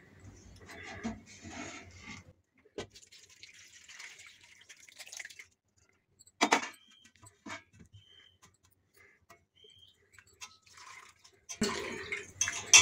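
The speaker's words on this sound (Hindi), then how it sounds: "अब इस पनीर को हम छान लेंगे" Freshly made paneer strains as whey water pours and drips through into a vessel, in quiet intermittent splashes and trickles separated by near-silent gaps, with a louder pour toward the end.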